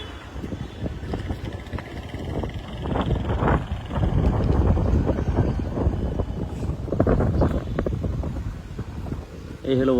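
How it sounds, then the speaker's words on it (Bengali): Wind gusts buffet the microphone beside the clear-water Khowai river walkway in Chunarughat, a steady, loud low rumble that swells in the middle. Faint indistinct voices may sit underneath. "এখন ফ্রেশ বাতাস পাওয়া যাচ্ছে, এখানে ঠান্ডা বাতাস"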